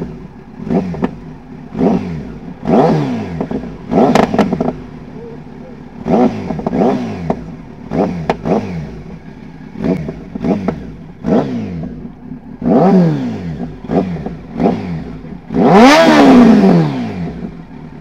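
A Kawasaki Z900 motorcycle revs loud and close in repeated sharp throttle blips that rise and fall, with a long final rev near the end.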